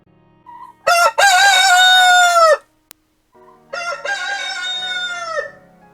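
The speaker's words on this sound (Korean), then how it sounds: "아침 일찍 수탉이 우는 울음소리 어떠세요?" Two loud rooster crows in succession, each a long drawn-out call, with a short pause between them and no talking.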